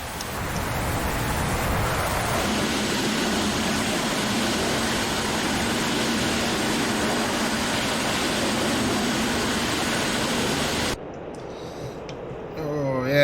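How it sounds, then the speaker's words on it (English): A MiG-19P jet engine in DCS World roars steadily with the afterburner off, a loud, broad, continuous rush that drops away abruptly near the end, with a voice heard briefly afterward. "let's pull the throttles back a bit. It's afterburner off now."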